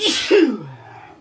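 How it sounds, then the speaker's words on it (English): A single close sneeze, a sharp breathy burst with a short catch before it, fading into quiet. "I'm about to sneeze"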